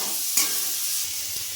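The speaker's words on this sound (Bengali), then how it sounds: "এবার সবজিগুলোকে ভালোভাবে ভেজে নেব, যেন সবজিগুলো ভালোভাবে সেদ্ধ হয়ে যায়।" Vegetables with raisins and cashews sizzle and fry in a pan while being stirred, with a steady close hiss and a sharp scrape near the start, heard alone without voices.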